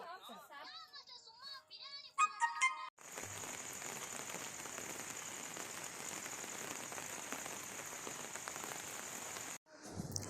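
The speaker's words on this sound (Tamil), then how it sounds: "மழை விடாமல் பேஞ்சிக்கிட்டே தான் இருக்குதுங்க." Steady heavy rain pours down in a dense continuous hiss, preceded by brief children's voices and squeaky sounds at the start.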